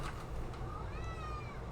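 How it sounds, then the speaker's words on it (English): A house cat gives a short, rising squeaky meow, close and fairly clear, over a low background hum with no talking. "My cat just like squeaked at me"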